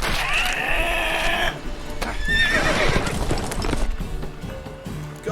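Horses in The Witcher 3 video game neigh and whinny with clip-clopping hooves, loud and close, amid game sound effects and speech.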